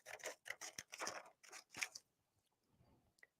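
Scissors cut through fabric or paper in a quick run of soft crunching snips, faint and close, followed by a near-silent pause and a small final rustle.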